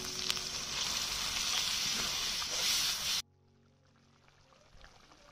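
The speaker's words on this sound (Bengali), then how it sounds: "এবার অল্প পরিমাণ জল দিয়ে দেবো।" A little water is poured into a potato curry frying in a pan, giving a loud broad hiss and sizzle for about three seconds that cuts off abruptly, leaving a quiet faint bubbling.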